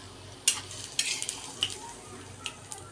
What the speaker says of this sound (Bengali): লাল করে ভেজে নিতে হবে। লাল করে ভেজে এই তো আমার হয়ে গেছে।